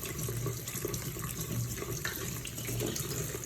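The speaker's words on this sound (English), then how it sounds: "You gotta rinse properly." Steady stream of tap water splashing over salted cucumbers being rinsed in a sink, continuous and fairly close with no talking.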